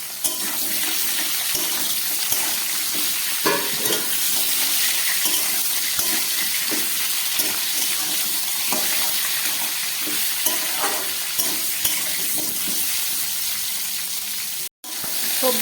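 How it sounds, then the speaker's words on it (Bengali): Potato, carrot, drumstick and plantain pieces fry in a pan with a steady, close sizzle, broken by occasional scraping stirs and a brief clatter near the end. "সবজিটাকে খুব ভালো করে আমি প্রায় 2 মিনিটের মতো ভেজে নিলাম।"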